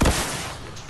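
Gunfire in a shooter video game: a short, sharp burst of shots at the start that leaves a brief echoing tail.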